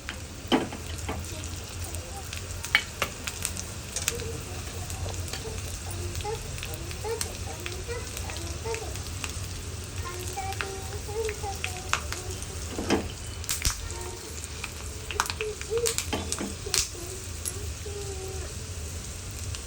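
Curry leaves and dried red chillies frying in hot oil for a Telugu raw mango dal, a steady soft sizzle and crackle with scattered pops running throughout, close by and moderately quiet.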